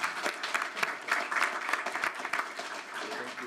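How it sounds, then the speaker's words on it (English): Attendees at a city council and water authority meeting in Indio clap for a few seconds, a moderate, fairly dense patter of hands with scattered individual claps standing out. "Give a little round of applause."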